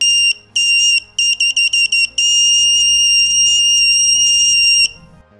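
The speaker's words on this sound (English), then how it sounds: "Like this little buzzer." A shrill electronic buzzer beeps in several short bursts, then holds one long steady tone before cutting off.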